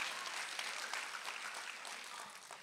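An audience claps together during a church service, dense steady applause at a moderate distance, continuous with no voices standing out.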